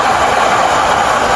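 Long-distance Argo Merbabu passenger train rushing past on the rail line, a loud, close, continuous rumble and wheel roar with faint clatter throughout the brief moment.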